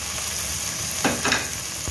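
Minced meat keema sizzling in hot oil with dried fenugreek leaves added, a steady close frying hiss with a couple of brief stirring scrapes, no voices.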